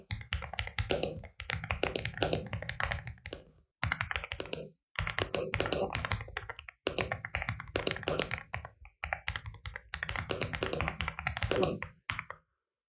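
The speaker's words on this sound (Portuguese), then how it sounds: "vamos ouvir um pouco desse teclado então" Continuous typing on a Solakaka Ki99 Pro mechanical keyboard, dense bursts of clacky keystrokes with brief pauses between runs, close and steady, no voices.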